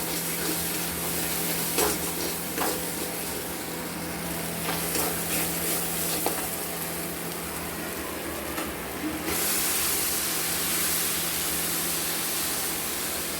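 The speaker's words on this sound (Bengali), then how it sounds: "এবার আমরা সিদ্ধ করা ডালটা দিয়ে দেবো।" Boiled chickpea dal hits fried spices in a pan with a loud, dense sizzle and hiss, scattered spoon knocks over a low hum, then a brighter, steadier steam-like rush toward the end.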